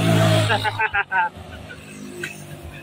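A Suzuki STX125 motorcycle engine, recently fixed of misfiring, revs in a few sharp bursts and then settles to a steady idle, close by, with people talking over it.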